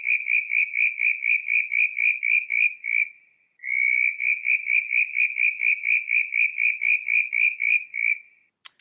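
A southern brown tree frog calls in rapid, evenly spaced high-pitched chirping trills, two long runs separated by a short pause, loud and close with no other sounds.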